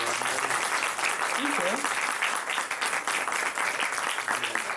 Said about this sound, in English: big round of applause for Katy O'Brian